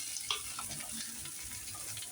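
Vegetables sautéed in a pan, a close, steady crackling sizzle with soft shuffling from stirring, alone without talk.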